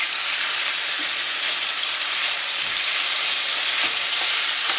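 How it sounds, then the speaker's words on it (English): Anchovies frying in hot olive oil give off a steady, dense sizzle with a broad bright hiss that holds constant from start to finish, with faint stirring clicks underneath and no voices. "So I put my anchovies, melt the anchovies a little bit."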